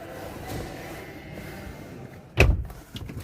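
Door of a 2021 Proton Iriz R3 Limited Edition car shutting once with a solid, firm thud, preceded by quiet handling and followed by light rustling.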